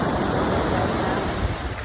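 Seaside surf rolls onto a beach in Da Nang, Vietnam, a steady broadband wash of breaking waves mixed with wind buffeting the microphone, loud and continuous for the brief moment.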